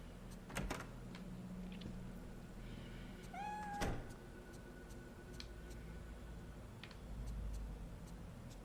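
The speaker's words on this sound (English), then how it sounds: "There was a kitty cat making a noise there." A cat in the video game Fatal Frame 3 gives a single rising meow midway through a quiet, eerie in-game scene, with scattered ticks and clicks around it.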